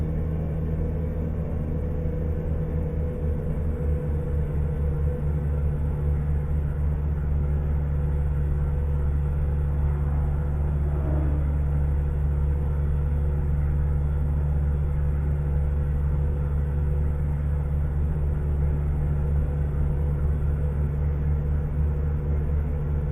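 A truck engine in Euro Truck Simulator 2 drones at a steady low rumble while cruising, continuous and even throughout, with no talking.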